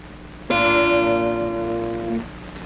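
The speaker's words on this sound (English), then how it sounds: "Whereas down near the bridge, we get an extremely sharp sound." One bright, twangy guitar note is plucked near the bridge with a sharp, edgy tone, rings for under two seconds, then is cut off.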